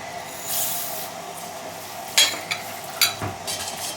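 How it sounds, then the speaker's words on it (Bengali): Moong and masoor dal tipped into a pot with ghee and spices, frying with a soft steady sizzle while a spoon scrapes and stirs in a few sharp clicks near the end. "এর মধ্যে ডালটাও দিয়ে দেবো মুগ ডাল আর মুসুরের ডাল"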